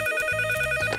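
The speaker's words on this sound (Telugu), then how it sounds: "ఏ టైంలో నాకు ఎవరు ఫోన్ చేస్తుందా?" A telephone rings in an animated cartoon with a steady electronic trill, close and clear, alone with no talk.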